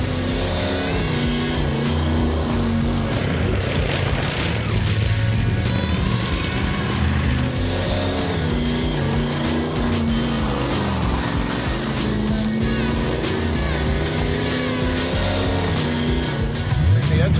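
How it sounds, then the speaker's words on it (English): Misfiring engine of a blown Ford Thunderbird, a loud, rough, uneven rumble running continuously up close, with faint voices under it. "Yeah, it's misfiring."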